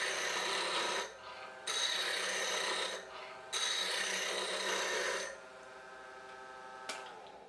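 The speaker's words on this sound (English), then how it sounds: "put the bevel on the wood, bring up the handle, and rough this piece to round" A lathe gouge roughing a wooden spindle to round: steady, close raspy cutting noise in long bursts with short pauses between passes, then the cutting tapers off and the lathe keeps running more quietly.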